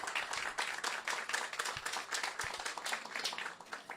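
A small group claps at a community event honoring a street renaming from Dixie to Ullman, distinct individual claps in a quick irregular patter, fairly quiet throughout.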